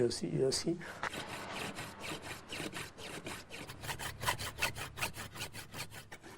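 A hand saw cuts through wooden beams beneath a chapel in repeated rasping back-and-forth strokes that grow quicker and more rhythmic, close by, following a brief burst of voice at the start.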